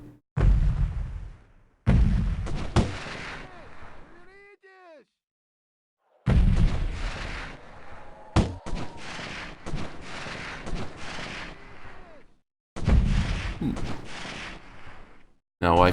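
Explosions in the Delta Force video game, a snowy Novaya Zemlya mission, go off as a series of loud, heavy blasts with rumbling tails, separated by short silences, with a brief voice sounding in one gap.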